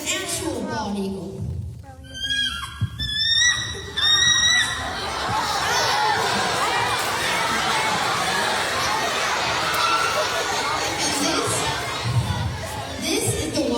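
A child imitates a bald eagle call as a series of high, squeaky chirping whistles over a few seconds, followed by a crowd erupting into sustained cheering, screaming and chatter.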